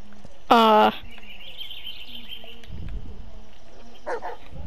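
A dog in the Blair Witch video game, lost in the woods, gives one loud, close bark, and a fainter bark follows near the end over quiet ambient forest noise.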